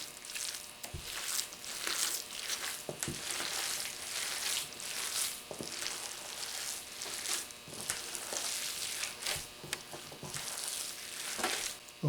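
A wild hog sausage patty sizzles steadily in a pan on the stove, a continuous bright crackle of frying fat with occasional pops, close and fairly quiet with no voices.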